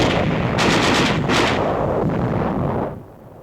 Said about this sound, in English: Enemy small arms and mortar fire is encountered by the Australians